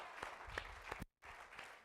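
A church congregation claps for the Lord, a faint, steady patter of many hands with one brief gap before the applause resumes.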